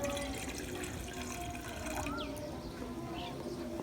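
Two cups of water pour into a pan set on a lit stove for green tea, a steady liquid splash and trickle over a busy indoor background.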